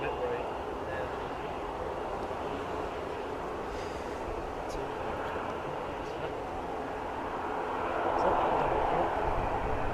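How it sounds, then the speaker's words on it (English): A twin-propeller airliner at Manchester Airport, its steady broadband drone holding at a constant level and swelling slightly louder near the end, with no talk over it. "Double prop."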